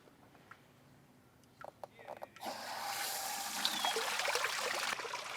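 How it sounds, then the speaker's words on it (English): Hose water gushes through flushing muffs fitted over an outboard engine's water intakes, a steady, loud, hissing rush that starts suddenly partway through after a few faint knocks and continues to the end. "then turn on the water."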